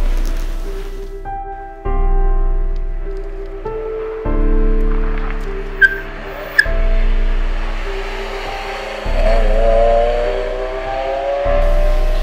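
Ferrari F355 Spider engine revving in a series of repeated blips, each rising in pitch then cutting off, about six pulses spread over the stretch; loud and close, with no talk.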